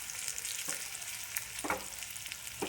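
Onions, well browned, frying in a pan for a roasted-coconut raw jackfruit curry: a continuous close sizzle broken by a few scraping stirs of a spatula, with no talking.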